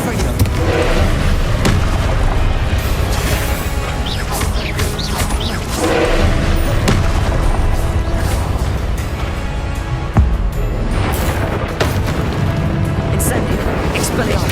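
Spell explosions in Hogwarts Legacy burst and crash continuously amid dense game effects, loud and busy throughout, while a voice keeps calling out spell names over the action.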